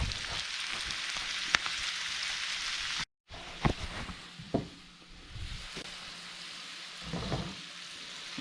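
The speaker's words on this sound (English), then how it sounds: "So just get your cabbage good and cooked." Shredded cabbage fries in a pan for bubble and squeak, a steady close sizzle and crackle with a brief cutout partway through, then quieter sizzling with occasional sharper pops and stirring scrapes.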